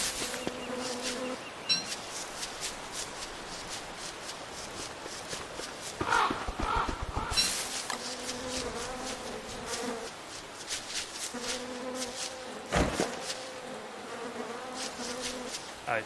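Bees buzzing in a meadow in Don't Starve Together, a steady faint drone running throughout with light footsteps and short repeated game tones layered on top.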